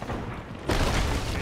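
A cannon fires in the pirate game Sea of Thieves, a single heavy boom that breaks in suddenly over low background noise and keeps rumbling loudly to the end.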